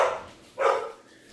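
A dog gives two sharp, loud barks close by, the second a little longer, with no talk around them.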